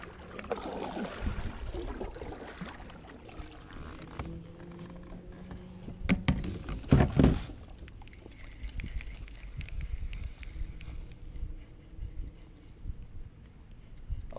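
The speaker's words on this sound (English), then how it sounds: "I'm gonna paddle up that way." A paddle works through the water beside a small boat while bass fishing, with soft splashes and strokes, a couple of louder knocks near the middle, and low wind and water noise throughout.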